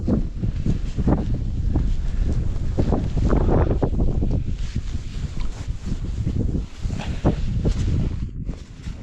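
Gusty wind blows across an open frozen lake during ice fishing, roaring and buffeting the microphone in uneven, loud surges with brief lulls between gusts.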